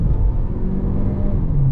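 A Chery Explore 06 1.6T with a 7-speed dual-clutch gearbox accelerates in sport mode, heard from inside the cabin as a loud, steady low engine drone and road rumble.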